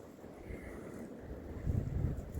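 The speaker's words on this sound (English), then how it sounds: "it's very windy today" Wind gusts outdoors at a state game land beside a stream, low rumbling buffeting on the microphone that swells stronger toward the end, with no speech.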